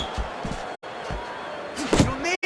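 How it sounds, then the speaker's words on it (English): A right-hand punch lands to the head in the boxing video game DVZion Boxing 2, a cruiserweight bout, giving dull thumping impacts amid steady arena noise, with a sharper blow near the end. "Little head knocking with that right hand."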